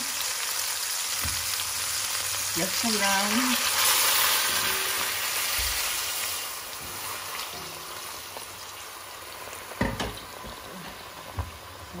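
Oxtail frying in a pot as a little water is added in a Jamaican kitchen, a steady loud sizzle and bubbling hiss filling the clip, with a person speaking briefly and a few clinks near the end.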